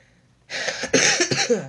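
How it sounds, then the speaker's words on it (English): A short burst of coughing, two or three harsh hacks in quick succession, close and loud, breaking a near-silent pause. "cough"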